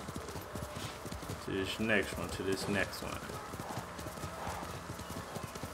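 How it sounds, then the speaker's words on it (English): A horse gallops in the video game Ghost of Tsushima, its rhythmic hooves clip-clopping steadily throughout, with a brief whinny midway while someone talks over it. "Horse a bit tired already."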